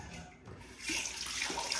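Fresh lemon juice, about three lemons' worth, is poured over a pot of stuffed grape leaves before they cook. The soft, steady trickle grows fuller partway through and continues without any talking.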